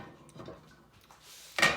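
A frying pan warming on a stove for an omelet gives a few faint, soft clinks, then one sharp, brief metallic clatter near the end in a quiet kitchen.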